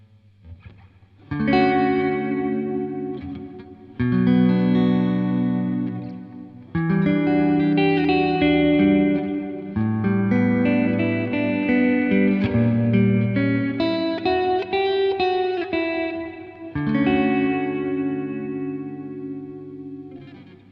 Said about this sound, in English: if I lower the decay as well, so the tail isn't as long